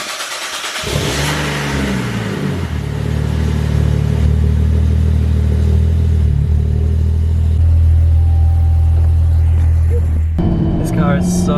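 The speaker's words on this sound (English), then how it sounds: "This car is so quick." A Ford Falcon engine starts and revs, then pulls hard under acceleration while driving, a loud close mid-pitched roar that rises and holds for several seconds before easing off.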